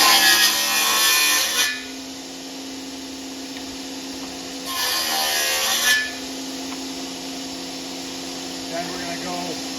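A router or power tool cuts a 1/16-inch-deep, 3/4-inch groove in wood for an arcade cabinet during restoration, two loud cutting bursts with steady motor whine between them, close by.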